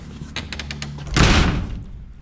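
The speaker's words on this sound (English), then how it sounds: "We'll shut the door," A workshop door is pushed shut, landing as one heavy thud after several light clicks and rattles, close by and loud.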